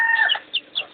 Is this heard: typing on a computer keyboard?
no